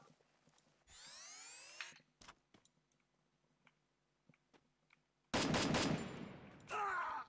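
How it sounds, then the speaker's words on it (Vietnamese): Gunfire in the SIGMAX survival shooter game: a brief burst early on, scattered sharp shots, then a loud sustained volley of close automatic fire near the end. "Ui nó bắn kinh nhỉ."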